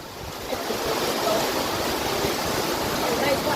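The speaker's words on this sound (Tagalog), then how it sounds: "Ang bilis na ng agos ng tubig." Fast floodwater rushes across a farm after heavy rain, roaring steadily and loudly, a dense, continuous churning flow with no pauses.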